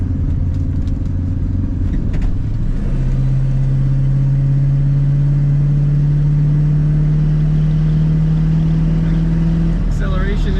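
A 1965 Ford Mustang with floor-mounted automatic transmission accelerates, its engine note rising steadily in pitch and loudness over about eight seconds, then easing off near the end.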